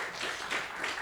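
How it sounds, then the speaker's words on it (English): Conference audience applauding: a dense, steady patter of many hands clapping for about a second, fairly close and without speech. "I thought that only QAs were clapping their hands"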